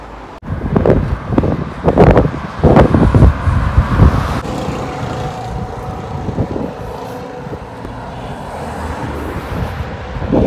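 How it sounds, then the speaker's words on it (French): Strong headwind buffets the microphone of someone walking, in heavy gusts, roaring loudly at first and then easing into a steadier rushing blow. "Toujours le vent en face."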